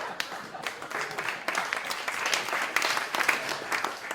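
An audience at a magic show breaks into steady applause, a dense wash of many hands clapping for about four seconds with a few sharper claps standing out.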